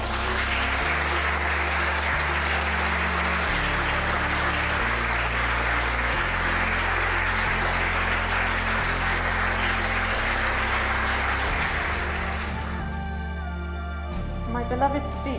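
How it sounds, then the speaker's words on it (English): Wedding guests at Church Farm in Chippenham applaud the newly married couple, a steady, full round of clapping that holds for about twelve seconds before fading out, with a low sustained tone underneath. "Shall we give them a round of applause?"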